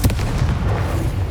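A Confringo fire spell blasts off in Hogwarts Legacy, a dense, booming burst with heavy low rumble that holds steady and loud across the short moment, like close explosive fire.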